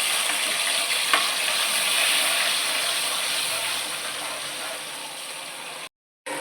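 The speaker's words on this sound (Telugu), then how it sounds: "డైరెక్ట్ అల్లం వెల్లుల్లి పేస్ట్ వేస్తున్నా." Ginger garlic paste hits hot oil for a mutton liver fry, giving a loud, steady sizzle and crackle that fades a little, then breaks off briefly near the end.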